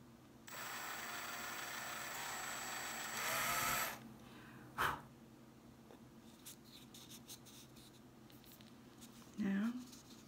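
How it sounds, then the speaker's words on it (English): A small drill bores a hole for the nose in a painted mini bottle gourd ladybug, giving a steady whirring buzz for about three seconds that ends in a louder burst, followed by a sharp click and a later brief scrape. "drill the hole for the nose."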